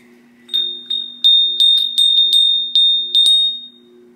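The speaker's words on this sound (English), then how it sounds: "It's this little Santa bell." A small vintage Santa bell from an antique store rings in about nine bright, clear jingles, each shaken stroke close and loud with a short shimmering decay, against a quiet low hum.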